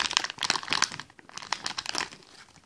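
A plastic blind bag packet of Shopkins figures is crinkled and torn open up close, with a dense run of sharp crackling rustles and a couple of brief pauses, no talking.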